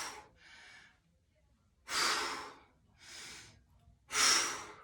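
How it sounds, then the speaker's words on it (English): Rhythmic breathing during an exercise workout, with forceful close inhales and exhales alternating steadily, some breaths louder and sharper than others, and no talk. "Keep that breath going in and out."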